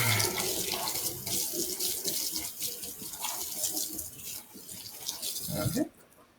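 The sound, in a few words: rinsing something under running tap water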